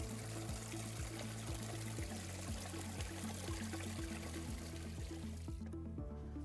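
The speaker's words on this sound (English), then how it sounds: "We'll drain out our last flush." Rinse water pours and trickles steadily out of an Electro Freeze CS-700 soft-serve machine's drain during a final flush, with a continuous splashing stream over a low machine hum. The flow stops abruptly near the end.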